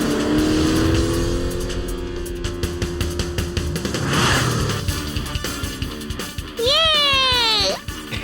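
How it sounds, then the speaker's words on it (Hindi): Cartoon race car engine revving up and speeding away in a race, loud continuous engine roar with a rising whine near the end, busy music and effects mixed underneath. "टेम्पो अन्ना की कार तो स्टार्ट हो गई। अब मुझे पूरी स्पीड से आगे बढ़ना होगा"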